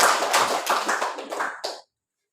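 A classroom of students claps hands in a quick burst of applause, close and bright, lasting under two seconds before cutting off to silence.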